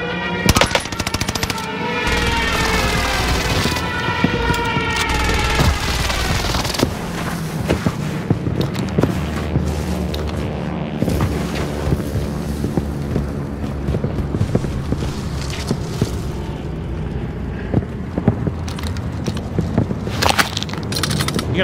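Sustained automatic gunfire from a submachine gun in a first-person shooter, rapid loud bursts and rattling shots layered over game ambience with no pauses.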